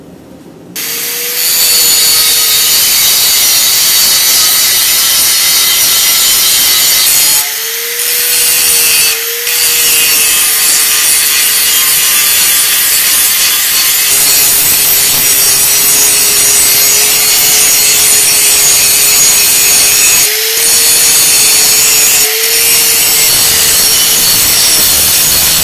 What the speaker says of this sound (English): Got to grind off all the surface rust.